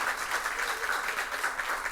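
An audience at a Haitian school quiz competition applauds the judge, a steady, moderately faint wash of clapping lasting about two seconds.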